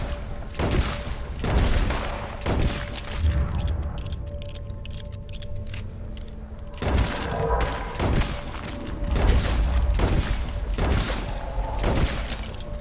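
Gunfire in the Red Dead Redemption 2 video game, heard as repeated sharp shots and thumping booms scattered throughout amid game ambience, loud and close.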